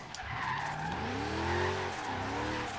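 A jeep in Forza Horizon 3, fitted with rally suspension and poor tires, spins its wheels with a loud, continuous tire squeal over a droning engine.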